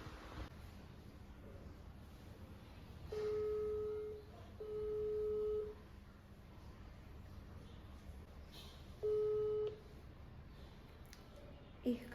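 A phone call ringing unanswered, heard as three separate electronic ring tones of about a second each, over a low background hum in a quiet room.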